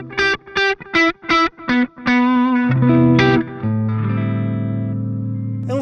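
PRS electric guitar played through distortion, bright and modern with single-coil-like bite: a run of short, rhythmic chopped chords, then sustained ringing chords and held notes that fade out, loud and close with no talking.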